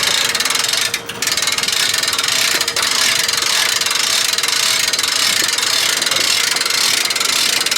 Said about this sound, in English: we're gonna grab our crank here. It goes right inside here.